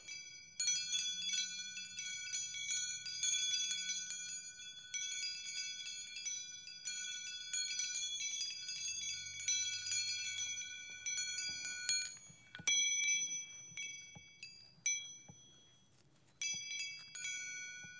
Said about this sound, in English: I'm going to try to do one bell at a time.